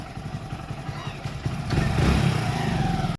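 A motorcycle pulls up and stops at a gate, its engine running at a steady mid-pitch idle that grows louder and fuller partway through, then cuts off abruptly at the end.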